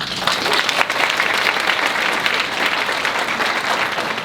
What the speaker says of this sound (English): Y'all clap it up for Hazel.